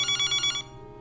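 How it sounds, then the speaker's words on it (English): A telephone rings at night in Dubai, a fast trilling electronic bell in four quick bursts that then stops, clear and close with no voices. "Abby's dad is sleeping when the phone rings"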